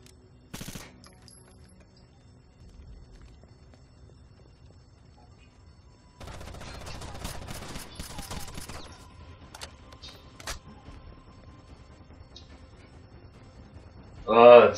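Rifle fire from a Rainbow Six Vegas 2 campaign battle: a dense cluster of rapid shots erupts partway through and crackles on for a few seconds, with a sharp isolated crack earlier and quieter game ambience between.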